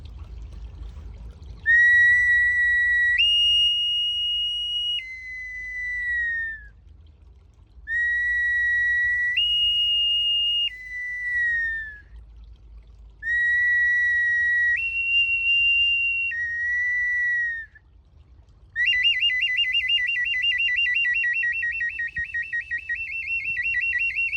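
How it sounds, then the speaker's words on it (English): A high, piercing shamanic whistle plays repeated stepped two-note phrases, three similar calls with pauses, then a longer warbling trill. "I'm going to play this shamanic whistle"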